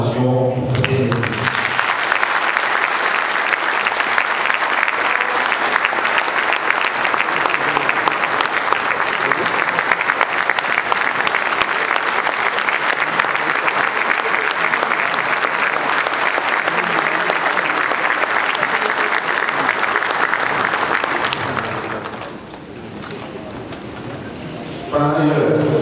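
Loud, dense applause and cheering from a conference audience for the President at the opening of the 12th conference of governors in Kolwezi, DR Congo, sustained for about twenty seconds before cutting off abruptly, with a voice returning at the end.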